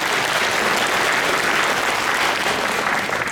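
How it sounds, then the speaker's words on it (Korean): Loud, dense audience applause of encouragement for bereaved Itaewon families at a Songpa district lawmaker's report meeting, continuous and even throughout, a large crowd clapping together with no talk. "다시 한번 우리 이태원 가족분들한테 큰 박수 한번 격려의 박수 부탁드리겠습니다."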